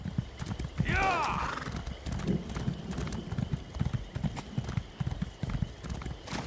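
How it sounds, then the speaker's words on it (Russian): A horse whinnies loudly near the start in the video game The Elder Scrolls Online, then hooves clip-clop steadily throughout, with voices talking over the hoofbeats. "Короче, тут нам лошадка поможет."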